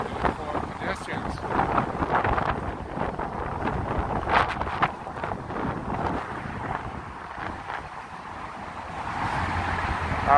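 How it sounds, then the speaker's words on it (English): Strong gusts buffet the microphone on the Brooklyn Bridge in New York, a steady low roar of wind noise lasting throughout, with voices faintly present underneath. "Too windy."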